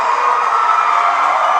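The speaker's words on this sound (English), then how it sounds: "The crowd loves to see it." A crowd cheers and shouts at a UNX climbing competition run in a steady, loud, bright roar of voices, with no pauses.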